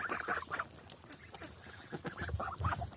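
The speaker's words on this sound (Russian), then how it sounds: "Это молодые гуси" A flock of young geese honk and cackle repeatedly nearby, overlapping nasal calls coming in irregular bursts.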